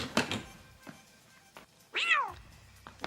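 A single drawn-out cat meow rises and falls near the close in a Super Luigi U game, following a few soft thumps and quiet game sounds, with no talking over it.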